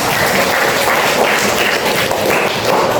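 Students in a classroom clap together after a group project, a dense, steady patter of hands that holds at an even, fairly loud level throughout.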